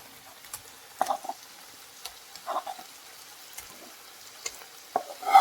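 Shallow-fried prawns are stirred into boiling masala in a pan, with faint, intermittent scrapes and soft wet stirring sounds spaced a second or so apart over near silence.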